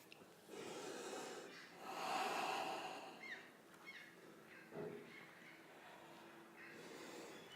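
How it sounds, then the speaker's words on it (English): Steady, quiet breathing during a guided breathing exercise, soft drawn-out inhales and exhales with one fuller breath near the middle, close and alone with no talking. "Keep the breath flowing."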